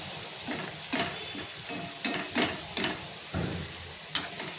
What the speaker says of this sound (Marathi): तेल गरम करून घेतलेलं आहे त्याच्यामध्ये मोदक टाकून आपल्याला तळून घ्यायचे आहे